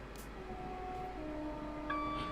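A Class 350 electric train passes on the West Coast Main Line in the Trent Valley, heard as a steady rolling rumble with drawn-out tonal whines and a brighter swell near the end.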